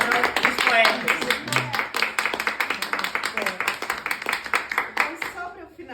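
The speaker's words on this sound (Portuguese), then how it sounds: "Palmas para vocês. Palmas para os poetas." An audience at a literary festival applauds the poets after an interview, with steady, dense clapping that holds for several seconds before fading out, while voices carry on beneath it.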